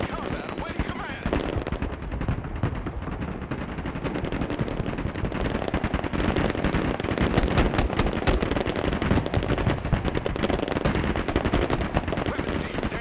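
Dense gunfire from Broken Arrow combat, with machine guns and rifles firing in continuous, overlapping bursts, loud and close throughout.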